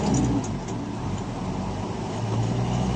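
Car being driven on the way from Cavite to Pampanga, a steady low engine and road rumble from inside the cabin with no talk, holding an even level throughout.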